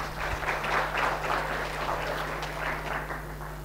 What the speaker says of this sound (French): Attendez la fin avant d'applaudir